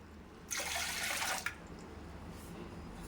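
Milk and water pour into a pot for semiya kheer in a single close, steady splashing stream of about one second, followed by quiet kitchen background.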